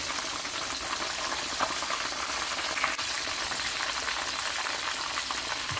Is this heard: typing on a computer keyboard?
no